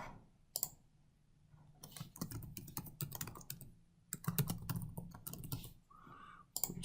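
Keys on a computer keyboard tapped in quick irregular bursts while a password is entered, close and fairly quiet, with a brief pause and a soft tone near the end.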